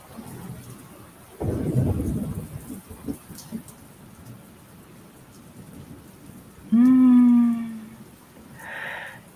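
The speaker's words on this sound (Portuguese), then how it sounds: "Tá frio, tem chuva, raio." A thunderstorm: a thunderclap bursts out early, then rain patters steadily in the background, followed later by a loud tonal wailing sound and a softer echo of it.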